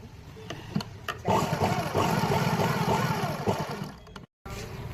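A sewing machine stitching fabric for a blouse latkan runs in a steady whirring, chattering burst for several seconds, loud and close, then stops briefly and restarts, with no talking over it.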